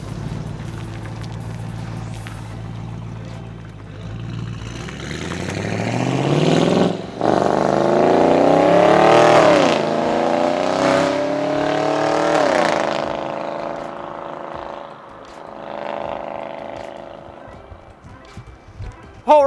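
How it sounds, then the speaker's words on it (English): A loud modified Audi S6 approaches and roars past on the road, its engine note climbing and falling through the flyby before fading away. "we're out having some fun here in the S6 to try to get some flybys for you"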